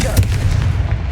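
A Confringo fire spell blast in the video game Hogwarts Legacy lands as a loud, dense boom with a crackling, rumbling body that holds steady for about a second.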